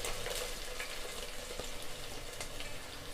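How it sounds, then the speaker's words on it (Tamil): Sliced onion and two green chillies sautéing in a pan for vegetable pulao, giving a steady, even sizzle that stays unbroken and fairly quiet throughout, with no talking. "நீளமாக வெங்காயம், பச்சை மிளகாய் 2 சேர்த்து நல்லா வதக்கிடலாம்"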